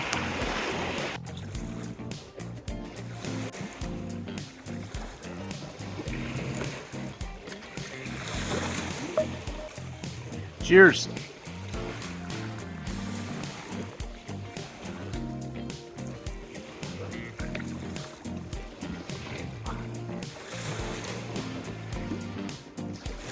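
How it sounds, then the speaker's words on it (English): Waves crashing in on a beach, an irregular wash of surf and splashes rising and falling at close range, with a voice briefly speaking over it. "I'm not sure if you can hear me above the waves that are crashing in over the beach here"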